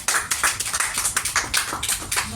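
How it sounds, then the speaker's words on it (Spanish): Applause from a church congregation honoring a brother during a worship service, a small group clapping in quick, uneven bursts that carry steadily through the short span with no talking over it. "Vamos a ver un aplauso por la vida de hermano Adrián, hermano."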